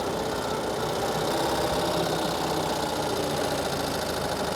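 A 2023 Ural Gear Up Sahara sidecar motorcycle engine runs steadily with a loud, close, knocking mechanical throb while shifting down from second to first gear and rolling to a stop.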